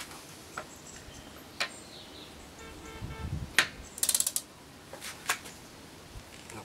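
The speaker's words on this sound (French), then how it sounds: "Je vais m'aider maintenant d'une clé à cliquer." A click wrench used while tightening a fastener in a torque wrench demonstration gives a few sharp separate clicks and a brief rattling burst of ratchet clicks, close and fairly quiet, with no talking.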